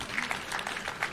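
Audience applause for a row of county chief officers at an outdoor Catholic diocese rally on grounds in Makueni County, Kenya: a short burst of scattered, moderately distant clapping with a faint crowd murmur beneath it.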